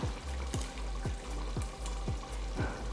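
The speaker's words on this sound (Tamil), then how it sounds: "இப்போ வந்து ரசத்தை ஒரு வாட்டி இப்படி கலந்து விட்ருவோம்." Rasam is stirred in a pot as it comes to a boil, with a spoon scraping in even, regular strokes about every half second over a soft, continuous bubbling simmer, close and fairly quiet.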